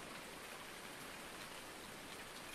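Heavy rain in the video game Farming Simulator 19 pours down in a steady, dense hiss, drumming on a surface with no pauses and no voices.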